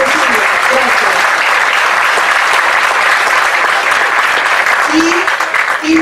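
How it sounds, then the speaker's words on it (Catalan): Steady applause from a lecture audience after the Q&A of a conference on Corsica, a dense sustained clatter of many hands filling the room throughout, with a few faint voices mixed in beneath it. "Un aplaudiment."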